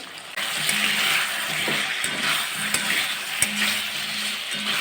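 Ground spices such as garam masala, coriander, cumin and Kashmiri chili sizzle with vegetables in a hot pan in a home kitchen. A loud, steady frying hiss runs under intermittent close stirring scrapes, with no talking.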